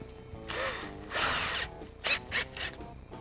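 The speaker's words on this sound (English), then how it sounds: "we're going to take out our Phillips head bit and put in our 3/16" A drill's chuck is loosened and tightened by hand to swap a Phillips bit for a 3/16 drill bit, giving a few close ratcheting clicks and short grinding bursts, quiet and without speech.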